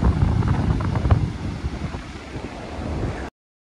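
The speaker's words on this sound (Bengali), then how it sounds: "প্রচুর হাওয়া দিচ্ছে এখানে।" Strong wind on the beach at Mandarmani buffets the microphone in a loud, rumbling roar with surf hissing beneath it, then cuts off abruptly near the end.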